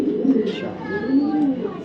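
A female racing pigeon that has laid eggs and raised chicks coos in low, wavering murmurs nearby, with a person talking faintly over it.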